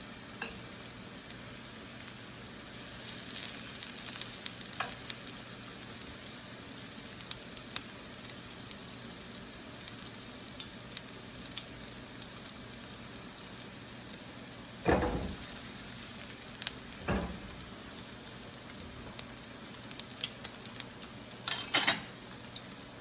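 Meatballs browning in a cast iron pan over medium heat, a steady low sizzle throughout with occasional sharp clinks of a utensil against the pan, close, with no talking.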